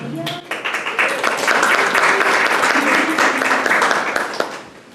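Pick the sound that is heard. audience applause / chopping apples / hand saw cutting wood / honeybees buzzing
audience applause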